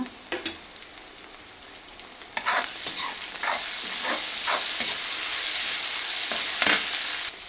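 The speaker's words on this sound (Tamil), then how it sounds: "வெங்காயம் தக்காளி வதங்கிடுச்சு" Onion and tomato sauté in a pan with a constant sizzle that swells after a few seconds, punctuated by spattering crackles and scraping stirs, close and without speech.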